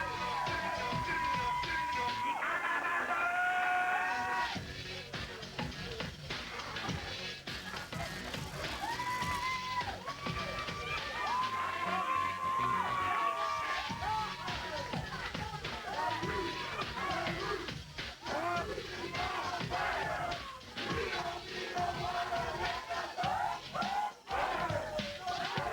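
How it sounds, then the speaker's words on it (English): A live studio crowd at a Memphis Wrestling taping cheers and whoops, rising and falling continuously throughout, with voices and a whistle-like tone mixed into the dense, loud crowd noise. "Got a great crowd."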